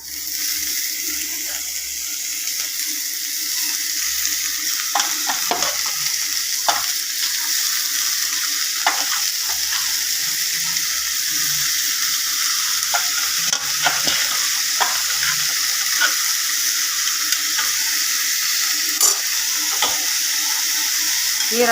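Amaranth greens (arai keerai) stir-frying in a pan, a steady close sizzle with repeated scraping and clicking strokes of stirring over about twenty seconds, with no talk.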